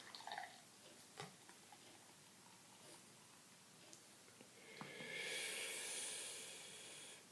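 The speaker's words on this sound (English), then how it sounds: "Let's pour this Big Wave Golden Ale down the center." Kona Big Wave Golden Ale pours down the center of a glass, a soft fizzing hiss that swells for the last couple of seconds after a few faint clinks, quiet and close.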